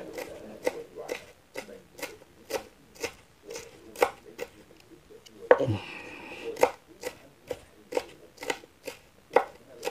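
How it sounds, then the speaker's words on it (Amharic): Onions chopped finely with a knife on a board, a steady series of sharp, close knocks at a regular brisk rhythm, with one short rustling scrape partway through. "ሽንኩርት ሲከተፍ ደቀቅ ተደርጎ ነው የሚከተፈው።"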